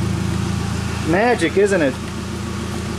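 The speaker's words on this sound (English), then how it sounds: "And the car is running." A Toyota Camry engine idles steadily after starting, a low even hum running throughout, with a short burst of speech over it partway through.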